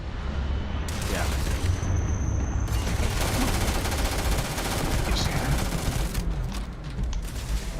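Rapid automatic fire from the Maelstrom gun in the space game Starfield, a loud, steady stream of shots lasting nearly the whole stretch with booming hits mixed in.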